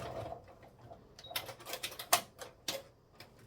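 A sewing machine back-stitches the end of a seam on a 12 by 14.5 inch laptop sleeve, making quick, close, irregular clacking bursts of needle strokes.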